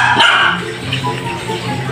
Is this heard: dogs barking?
yes